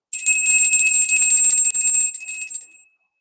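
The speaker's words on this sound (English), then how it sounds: "we're going to ring the bell, like ring the alarm" A small bell rings close and loud with a bright, rapid shimmering tone that holds for nearly three seconds before cutting off, with no talking.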